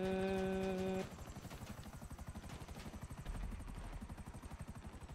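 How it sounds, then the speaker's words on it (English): A helicopter in GTA V hovers close overhead, its rotor chopping in a rapid, steady pulse, after a brief tonal game sound cuts off at the start. "I don't like having a helicopter on me."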